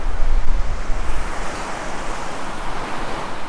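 Wind buffets the microphone on a beach, a constant low roaring rumble with gusty surges and the wash of surf behind it, loud and unbroken, with no one talking.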